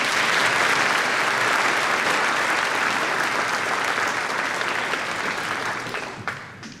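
A large audience at a school graduation ceremony bursts into dense, continuous applause that stays loud and full, then thins and fades out in the final second.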